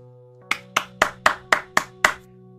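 Seven crisp, evenly spaced hand claps, close and alone over a faint steady hum.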